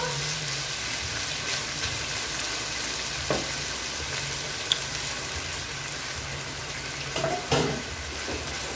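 Marinated meat sizzles steadily in hot oil as it fries, a continuous crackling hiss close by with occasional louder pops and a brief clatter of utensils.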